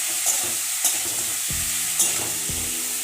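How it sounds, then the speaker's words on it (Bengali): Spoon stirring sponge gourd curry with potatoes and bata fish in a sizzling pan, a few distinct scraping strokes over steady frying hiss, close and fairly loud, no talking. "এটা দিয়েও আমি ভালোভাবে মিশিয়ে নিচ্ছি।"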